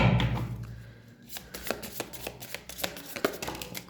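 Tarot cards being handled and shuffled up close, a run of quick crisp riffling flicks and soft slaps after a brief quiet start.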